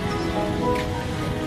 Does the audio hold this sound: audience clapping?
no